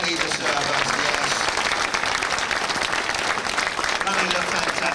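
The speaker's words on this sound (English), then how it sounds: "a huge round of applause for the waiting staff who are here really to serve us" An audience at a TV show gives a dense, sustained round of applause for the waiting staff, continuous clapping and cheering filling the whole stretch.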